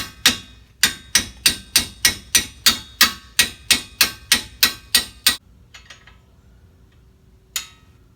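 Sharp metallic ratcheting clacks from a 17mm wrench breaking loose a brake caliper bracket bolt on a 2011 Toyota Highlander, about a dozen evenly spaced loud strikes, then a pause and one more clack.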